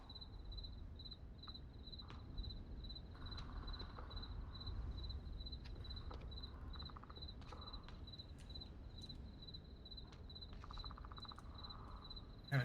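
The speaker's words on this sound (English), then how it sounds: "Even the crickets are going even harder." Crickets chirping at night in the Onward VR video game, a regular high pulsing trill repeating steadily throughout, with faint rustles and soft thumps beneath.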